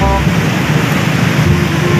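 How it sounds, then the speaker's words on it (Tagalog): Big sea waves pound against the seawall at Cateel, Davao Oriental, making a steady, loud wash of surf noise that fills the whole span without a break. "medyo malakas yung alon dito"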